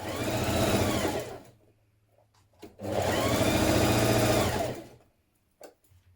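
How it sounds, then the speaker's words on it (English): A sewing machine stitching the side seams of a gathered top, running in two steady whirring bursts of about a second and two seconds, each followed by a brief pause and small clicks. "We're stitching down the side, along the bottom and up the other side front."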